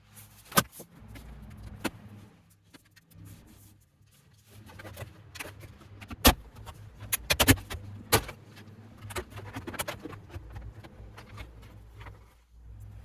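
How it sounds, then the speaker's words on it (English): A trim panel around the instrument column of a Chevy Silverado being pried off, with sharp plastic clicks and snaps scattered over a soft background of handling and rustling inside the truck cab. "now we're going to remove this trim panel around the instrument column"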